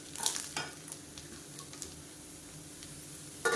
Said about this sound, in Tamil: இப்போ சேர்த்து நல்லா எண்ணெயில் வதக்கணும்